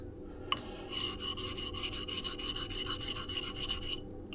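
A bronze blade is honed on a sharpening stone: close, rhythmic back-and-forth rasping strokes, about a dozen quick even passes, moderately loud with no talk.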